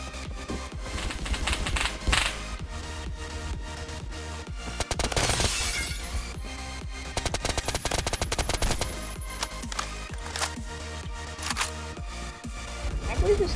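Rapid P90 submachine-gun bursts in the shooter game Phantom Forces, loud close repeated volleys with brief gaps, some sharp crack-like impacts, continuing across the whole stretch.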